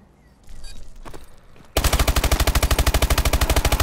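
Sustained automatic gunfire in Call of Duty: Advanced Warfare on PS4, a loud, rapid, evenly spaced burst that kicks in abruptly after quieter scattered game noise and runs steadily to the end.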